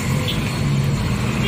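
Heavy road traffic in Thanjavur, with a loud, constant low rumble of idling and slow-moving engines close by, steady throughout without distinct horns.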